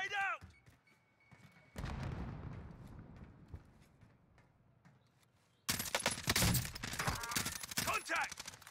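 Call of Duty gunfire and a grenade blast on Rebirth Island: muffled shots and a thump give way to a dense, loud burst of rapid firing and explosions, with voices talking over the fighting.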